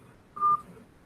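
Single short telephone dialing tone from a phone, one clear beep lasting about a fifth of a second and standing alone against faint background noise.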